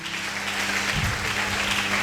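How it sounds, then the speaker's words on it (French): A church congregation applauding loudly at a sermon, a dense, steady wall of clapping that holds from start to finish with faint voices underneath. "Nous acclamons Tobeti très fort."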